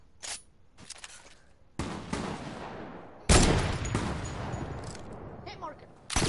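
Sniper rifle gunfire in a first-person shooter video game, a few sharp bursts and booming shots with lingering decays, separated by gaps, under faint background game noise.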